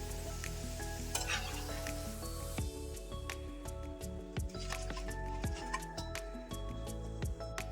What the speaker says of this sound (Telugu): అన్నింటినీ ఇదే విధంగా వేసుకొని ఫ్రై చేసుకోవాలండి.